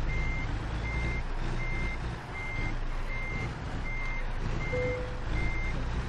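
Truck reversal alarm beeping steadily at an even rhythm while backing a trailer in American Truck Simulator, each tone repeating about twice a second over a constant low engine rumble.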